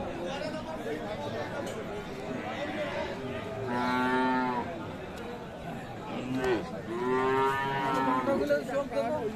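A three-month-old Friesian cross bull calf bellows at the Aftabganj cattle market: two long, drawn-out moos, the second louder and more insistent, rising over steady crowd chatter.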